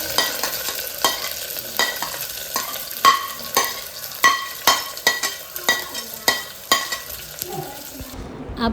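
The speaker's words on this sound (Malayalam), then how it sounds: "ഞാനൊരു ചട്ടി വെച്ചിട്ട് വെളിച്ചെണ്ണ ഒഴിച്ച് അതിലേക്കിട്ട് വഴറ്റിയെടുക്കുകയാണ്" Chopped ingredients for a coconut-based fish curry are stirred and sautéed in coconut oil in a pan, a steady sizzle broken by regular scraping strokes of the spoon, close and fairly loud with no talking.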